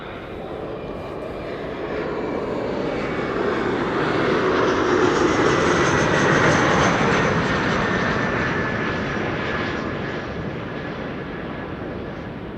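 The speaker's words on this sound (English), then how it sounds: "Flight 2302 arriving from Munich, Lufthansa. CRJ 900 long range" A Lufthansa CRJ 900 long-range regional jet, thirteen years old, arrives on a flight from Munich, its engine roar building gradually to a broad loud peak and then tapering away, alone without talk.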